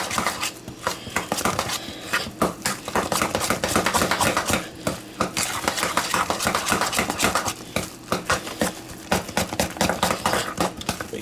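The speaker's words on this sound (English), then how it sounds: "let's give this a nice little stir" A spoon is stirred through food in a pot while cooking blackened salmon with bacon mashed potatoes, giving steady, loud, close scraping and clinking against the pot in a continuous rhythm.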